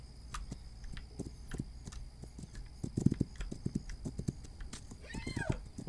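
Hooves from a horse in the video game This Land Is My Land clip-clop in a steady, fairly close rhythm, joined near the end by a brief whinny.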